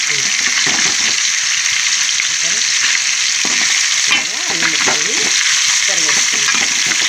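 Fish pieces for a fish curry fry in a hot pan with oil, giving a loud, steady, dense sizzle throughout, with the occasional scrape of a spatula turning them and no talking.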